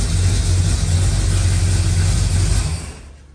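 A car engine fitted with FiTech EFI fuel injection running steadily just after starting, a loud close rumbling idle that holds even and then drops away abruptly near the end.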